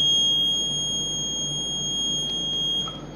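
A multimeter sounds a steady, high continuity beep while testing a wire, one unbroken loud tone that holds for about three seconds before cutting off, with no talking.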